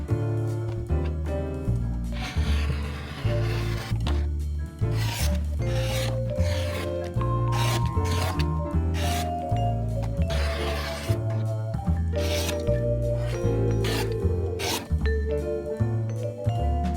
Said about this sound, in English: But first I will need to cut some fabric though.